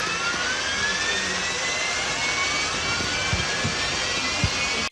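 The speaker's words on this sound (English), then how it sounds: "I'll quickly put in a clip of what a PlayStation 4 sounds like" A PlayStation 4 console's cooling fan roars loudly and continuously, a steady jet-like whoosh with a faint rising whine and a few small knocks, with no voices.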